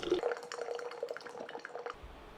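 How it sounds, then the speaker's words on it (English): A fruit drink for an Ottoman-style summer recipe is strained into a pitcher, giving a faint, close trickle of pouring liquid that stops abruptly near the end. "right away I strained into my pitcher"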